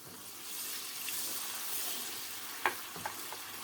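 Tomato paste being fried in a pan sizzles steadily with a hissing wash, with a few sharper clicks and bursts near the end as a small amount of water hits the hot paste.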